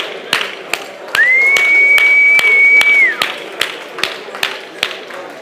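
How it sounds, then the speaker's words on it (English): Audience at a goal-setting seminar clapping for their partners, heard as scattered, evenly spaced claps with a sustained whistle rising over the middle stretch. "Let's give a round of applause for your partner."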